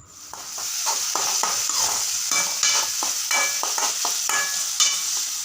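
Tomatoes sizzle softly in a pan while a spatula stirs them, with quick scraping strokes repeating roughly twice a second over a constant frying hiss, close and clear with no voices.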